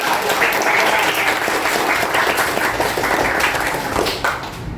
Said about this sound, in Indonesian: Boleh tepuk tangan dulu untuk kita sekali lagi.